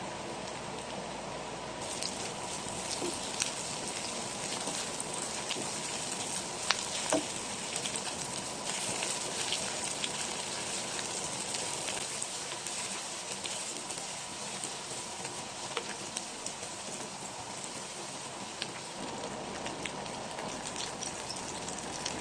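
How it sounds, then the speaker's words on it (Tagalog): Onions and aromatics sautéing in a pan for a tuna dish make a faint, even crackling sizzle that runs without a break, with a few sharper pops and no talk. "Igasa lang natin ng maayos itong ating mga sibuyas."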